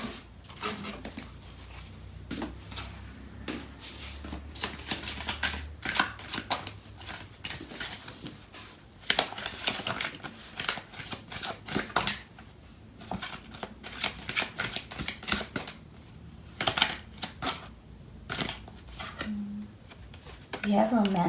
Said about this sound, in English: I'm going to pull out some more cards from the other deck.